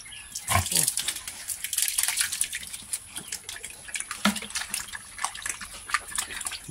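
Native piglets about 40 days old eat cooked, salted feed up close, with wet slurping, smacking and occasional grunts in an uneven rhythm.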